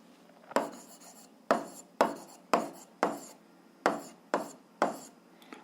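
Chalk or pen strokes come in short, sharp scratching bursts, about nine separate strokes in an irregular rhythm, as a math solution is written out. The sound is close and fairly quiet and stands alone without talk.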